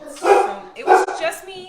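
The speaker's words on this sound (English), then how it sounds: "Sorry about the barking." Dogs bark in a couple of loud bursts close by in a kitchen, mixed in with someone talking over them.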